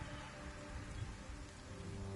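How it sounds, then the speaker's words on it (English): Rain in the RiME video game falls as a faint, even hiss of drops that holds steady throughout, with no voices. "This place, it's full of rain and darkness."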